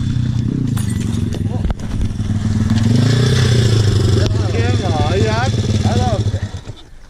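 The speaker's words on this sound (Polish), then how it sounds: "To jest moje marzenie, chcę taki skuter." A scooter rides past on an outdoor dirt track, its engine buzzing loudly and close, with people talking over it.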